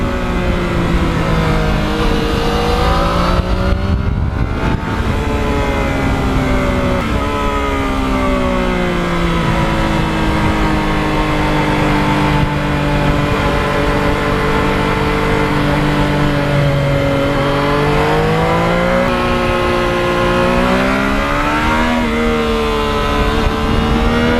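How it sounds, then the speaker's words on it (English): A Yamaha MT-09 motorcycle engine revs repeatedly, its pitch climbing and falling in long sweeps. The loud, steady mechanical drone stays close and continuous throughout with no talking. "One of the things I fell in love with right in the beginning of owning the bike, and I was not disappointed, was the sound."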